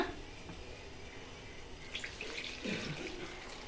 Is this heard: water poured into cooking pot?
yes